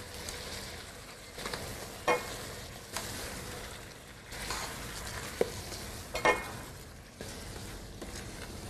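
Meat and spices for nihari tossed and stirred in a hot pan, a steady close sizzle with a few scraping knocks from the pan and spoon, and no talking.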